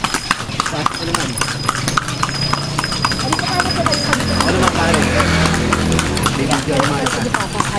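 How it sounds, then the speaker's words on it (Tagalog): A horse pulling a kalesa clip-clops along in a quick, steady rhythm, close and clear. People chat over the hoofbeats throughout. "Nakasakay na ng kabayo."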